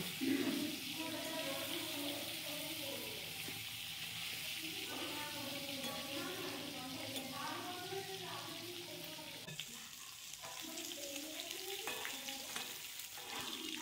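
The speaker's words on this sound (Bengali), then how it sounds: "মাছগুলোকে একটু লাল লাল করে ভেজে নেব" Rohu fish pieces sizzling in hot oil, a steady crackling hiss with soft stirring, heard beneath a tonal background that rises and falls.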